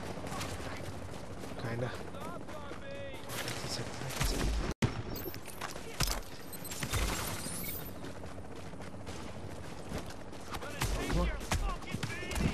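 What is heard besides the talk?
gunfire in The Division video game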